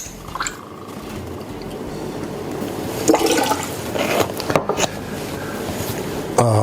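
Pineapple juice is poured into a cocktail glass alongside vanilla vodka, giving a few seconds of close, splashing liquid flow with small gurgles and drips and no voices.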